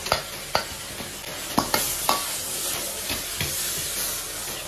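Cauliflower and minced pork stir-fried in a wok, with a steady close sizzle broken by about eight sharp spatula scrapes and tosses spaced irregularly across the clip.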